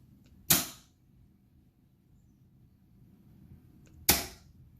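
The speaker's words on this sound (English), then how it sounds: "you'll hear the contactors turn on." Contactors in a smart WiFi-controlled water heater switching, two sharp isolated clicks a few seconds apart, one on and one off, over a quiet room background.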